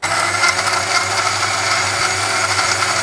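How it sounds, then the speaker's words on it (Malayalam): A kitchen mixer blends mango milkshake with frozen milk and ice cream, a loud, constant whirring grind that stays close and unbroken for about three seconds. "എന്നിട്ട് ഒരു 2 സ്പൂൺ ഐസ്ക്രീം കൂടി ഇട്ട് നമുക്ക് തന്നെ ബ്ലെൻഡ് ചെയ്തെടുക്കാം."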